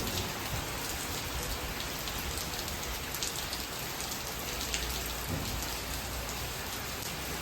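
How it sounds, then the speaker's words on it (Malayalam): Heavy rain pours down steadily outside, a dense, continuous hiss of drops with no talking. "പുറത്ത് നല്ല മഴ പെയ്യുന്നുണ്ട് കേട്ടോ"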